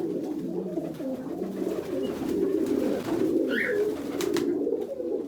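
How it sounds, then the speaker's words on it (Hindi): Pigeons pick at scattered grain on a farm, giving a continuous soft, throaty cooing close by, with a brief chirp standing out near the end. "ये देखें दाना जो पड़ा हुआ था पिजन्स खा रहे हैं"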